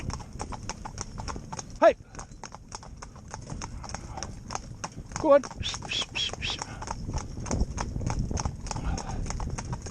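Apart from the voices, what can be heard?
horses cantering, hooves clip-clopping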